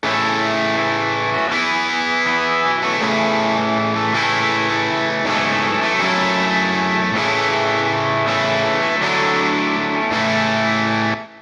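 Electric guitar played through Nashville Session Cabs impulse responses, a loud, distorted, biting and scooped tone with chord hits changing every second or so, sustained and close, until it cuts off at the end.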